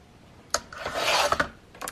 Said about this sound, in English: I'm just gonna trim this into a strip